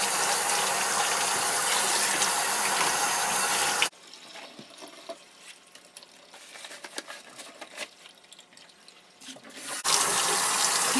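Tap water runs steadily into a household tub or sink while a toothbrush and surface are rinsed, loud and close with a rushing hiss that cuts off for several seconds of quieter clatter before the flow resumes.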